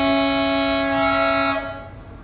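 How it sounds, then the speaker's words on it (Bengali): A train whistle blares loudly and steadily for well over a second on a hill railway near Siliguri, then fades away. "ট্রেনের হুইসেল দিয়ে"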